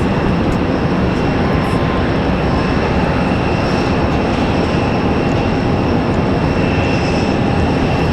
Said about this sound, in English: American 1897. This A321 right here